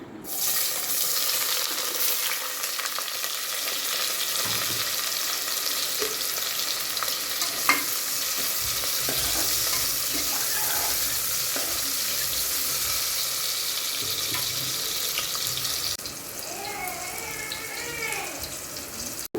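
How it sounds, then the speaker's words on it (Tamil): Steady broadband sizzle of onions frying in hot oil for egg biryani, close and continuous, with occasional stirring clatter and a brief tap-water run near the end. "அந்த 2 பல்லாரியும் போட்டு நல்லா கொஞ்சம் பொன் வறுவலாக வர்ற மாதிரி வதக்கிடு."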